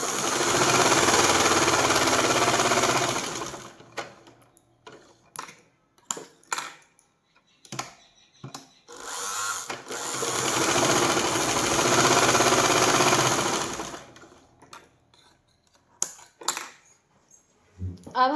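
A sewing machine stitches the collar of a kurti in two long, loud running bursts, separated by a stretch of clicks and handling noises, with a few short taps toward the end.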